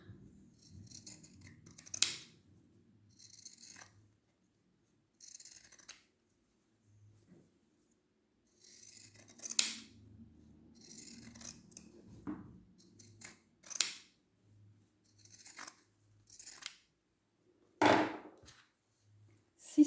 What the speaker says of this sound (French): j'utilise le ciseau cranteur pour réduire la valeur couture.